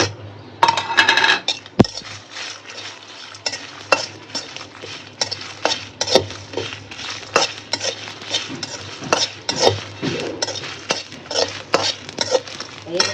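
Dried and green chillies, garam masala, cumin and cardamom dry-roast in a pan, with a spoon scraping and clinking against the metal in a busy irregular rhythm over a low hiss, close and without talk.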